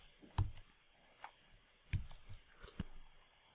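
Three crisp, close mouse clicks spaced about a second apart while working in Adobe InDesign, quiet and isolated with no talking.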